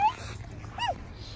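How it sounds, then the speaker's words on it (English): Dog at a cold, wet beach giving a short high whine that bends up and falls, with a faint earlier whimper, over low wind rumble and no talk. "What a fun dog."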